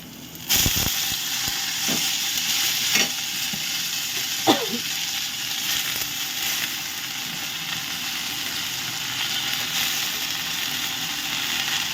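Green chilli fries in hot oil over a low gas flame, the first step of water spinach (kolmi shak) bhaja. A steady sizzle and hiss is broken by several sharp crackles and pops near the start and middle.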